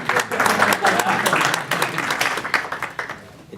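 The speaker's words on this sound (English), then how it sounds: "Let's just get a round of applause for this room." An audience applauds in a room at a startup weekend event, dense steady clapping that tails off toward the end, with voices mixed in.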